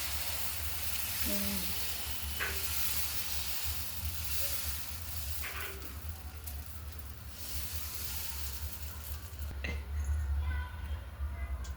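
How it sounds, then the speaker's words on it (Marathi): Dosa batter sizzling on a medium-hot tawa for masala dosa, a steady close hiss of frying that runs throughout with faint kitchen clinks. "आता इकडे तवा गरम झालेला आहे. आपण तव्यावर पीठ टाकू."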